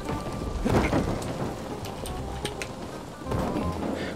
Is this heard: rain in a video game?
yes